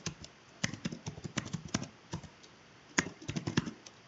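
Fast, irregular bursts of keystrokes on a computer keyboard, close and fairly quiet, clustered in quick runs with short pauses between words and a heavier key press near the middle.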